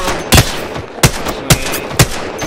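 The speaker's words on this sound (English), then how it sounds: "They're shooting at me!" Gunfire in the Apex Legends video game, four sharp, loud shots spaced roughly half a second apart over a steady background bed, close and punchy, no voices.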